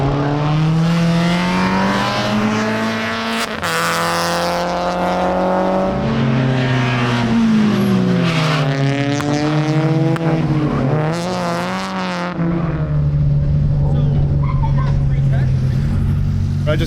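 Race car with an open header exhaust lapping Musselman Honda Circuit, engine loud and continuous, pitch climbing and falling through gear changes and corners without a break.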